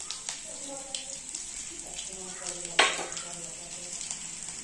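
Chopped garlic sizzles and fries in smoking-hot mustard oil in a pan, a steady close crackle with a sharp louder burst partway through, while someone talks over it.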